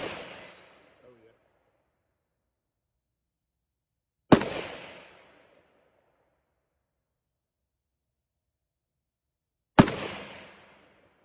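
Three single AK-47 rifle shots fired outdoors at a target, each a sharp loud crack with a short echoing tail, spaced several seconds apart with quiet between them.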